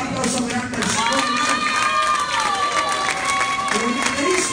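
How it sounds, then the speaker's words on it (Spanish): A church congregation applauds with a dense, continuous patter of clapping and crowd noise, while a voice speaks or sings loudly over it throughout. "Dar un aplauso grande al Señor."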